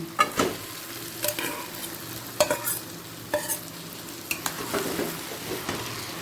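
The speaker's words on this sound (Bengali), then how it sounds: "চিকেনটা পেঁয়াজের সাথে ভালো করে মিশিয়ে নেব" Chicken is stir-fried with onion, tomato, capsicum and green chilli in a pan, giving a steady sizzle punctuated by sharp spatula scrapes and clacks against the metal at an uneven rhythm.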